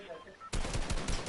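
Shooter video game gunfire erupts halfway through, a loud, dense stream of rapid automatic shots after a quieter start.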